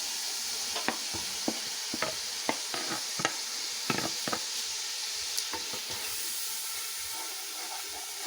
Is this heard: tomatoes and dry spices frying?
yes